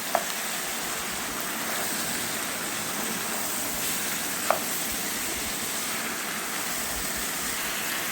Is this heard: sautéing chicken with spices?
yes